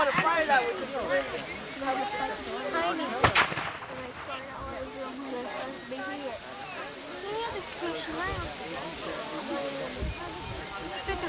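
Cannon and musket fire at a Perryville, Kentucky Civil War battle reenactment sounds as a sharp distant boom and scattered far-off shots beneath steady chatter from nearby spectators outdoors.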